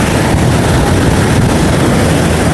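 Rough sea waves surging onto the beach at Porbandar, a continuous loud wash of surf and wind roar with no clear breaks between breakers.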